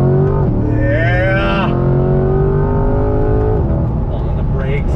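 A 2020 Chevrolet C8 Corvette Z51 engine accelerating on throttle, its tone rising sharply and then holding a steady drone. Voices can be heard over the engine.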